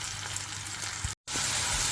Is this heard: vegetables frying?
yes